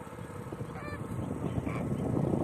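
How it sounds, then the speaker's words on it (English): A large flock of flamingos at a wetland near Kumbhargaon, Bhigvan, in Maharashtra, India, gives goose-like honking calls that rise and blend into a steady, dense chatter throughout. "big number of flamingo birds"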